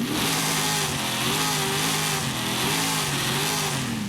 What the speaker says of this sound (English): Yeah, that V8 sounds so aggressive.